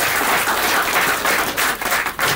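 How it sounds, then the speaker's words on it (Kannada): An audience claps in a loud, sustained burst of applause that fills the whole stretch without pause, dense and close, with no talking over it. "ದಯವಿಟ್ಟು ನನಗೋಸ್ಕರ ಅವ್ರಿಗೆ ಒಂದು ಚಪ್ಪಾಳೆ ಕೊಡೋತರ ನಾನು ಕೇಳ್ಕೊಳ್ತಾ ಇದ್ದೀನಿ."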